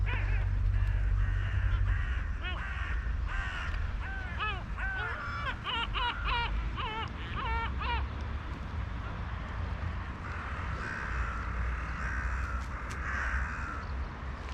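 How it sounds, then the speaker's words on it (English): A flock of about forty crows near an old apartment building caws in a rapid cluster of harsh calls, set against a steady low rumble of wind or traffic. "There's our crows."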